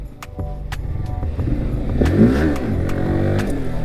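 A Yamaha R15 V4 motorcycle engine revs hard during a wheelie, rising and falling in pitch as the throttle is worked. It is loud and close, with a few sharp clicks and clatters.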